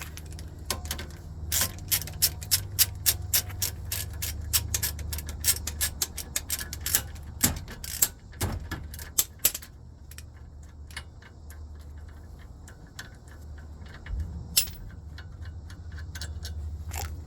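A ratchet clicks in quick, close bursts while the bottom 15mm brake caliper bolt on a 2019 Ford Transit 250 is backed out, with metallic clinks between runs and a quieter stretch before a few final clicks.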